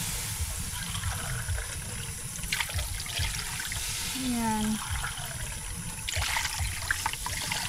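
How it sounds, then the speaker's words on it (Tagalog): Water poured into a cooking pot, a steady trickling and splashing over a broad background hiss, with a brief spoken word partway through. "Then lagyan na natin guys ng tubig."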